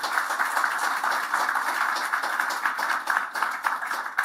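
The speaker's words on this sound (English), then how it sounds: "Round of applause." Dense, steady applause from an audience at a provincial housing announcement for aging adults with intellectual disabilities, loud and continuous throughout with crisp hand claps.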